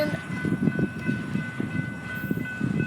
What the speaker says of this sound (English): Then the tanker train came